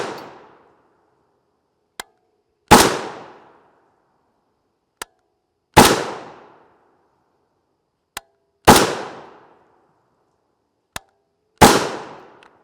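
Four loud gunshots from a Springfield Hellion bullpup rifle with a 16-inch barrel, firing 5.56 NATO 55-grain FMJ ammunition, spaced about three seconds apart, each a sharp crack with a decaying tail, alone with faint clicks between shots.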